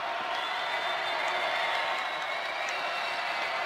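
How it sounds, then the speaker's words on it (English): A crowd of about 80 kids stomps and cheers at a high school boys basketball game between Union and Skyview. The roar is dense, loud and continuous, with no clear breaks. "About 80 kids in front of us stomping."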